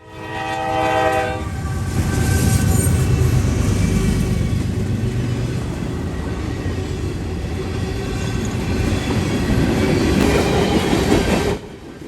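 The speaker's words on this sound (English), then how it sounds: "as an NS AC44C6M leads 179 west at Glade Run with a CSX" A westbound freight train led by a Norfolk Southern AC44C6M locomotive with a CSX ES40DC trailing passes at Glade Run, opening with a horn blast followed by a loud, steady rumble and clatter of wagons, fading abruptly at the end.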